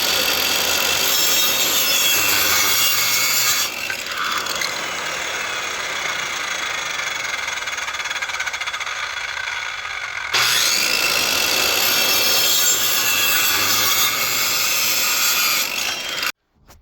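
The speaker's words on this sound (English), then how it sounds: "Got a couple scrap 2x4 pieces I'm going to cut for the corners" Scrap 2x4 wood pieces being cut with a saw, two long stretches of close, loud buzzing cutting separated by a brief pause, then a second cut that ends abruptly.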